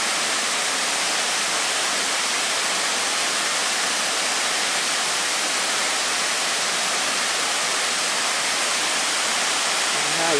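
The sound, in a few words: flowing water of a stream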